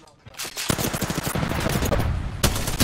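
Rapid automatic gunfire in Apex Legends, loud dense bursts of shots running almost continuously, with voices mixed in.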